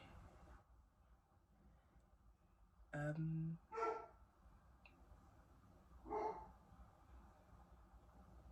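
A dog in a home barks a few times, with a couple of short, clear yips spaced a few seconds apart over quiet room tone.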